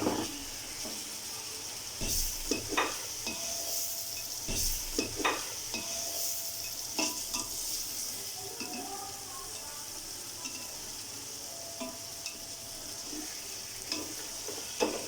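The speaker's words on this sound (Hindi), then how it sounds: "अच्छे से भून लेंगे। छः से 7 मिनट होंगे, हमने मटन को अच्छे से भून लिया है।" One kilo of bone-in mutton fries in a pot for Bannu mutton pulao, a low steady sizzle with scattered sharp clinks and scrapes of a ladle against the metal, fairly quiet, without talk.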